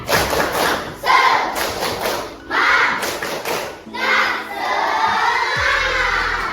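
A group of children in a classroom claps and shouts in a quick rhythmic Indonesian chant, several bursts of clapping with voices, followed by a sustained crowd cheer.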